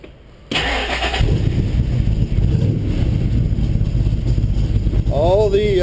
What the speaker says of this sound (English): We'll start it up here.